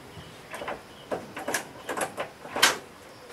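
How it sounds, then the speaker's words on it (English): A door is opened to let a dog in, a series of close scraping and rattling mechanical clunks in irregular bursts, the loudest near the end. "I've got to open a door for a dog."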